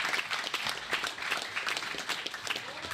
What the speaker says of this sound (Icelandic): Við gefum gott klapp.